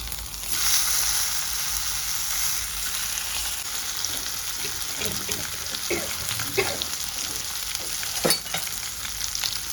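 Gunda (glue berries) frying in hot oil with a pinch of asafoetida, a loud steady crackling sizzle with a few sharper pops and stirring clicks toward the end, no talk.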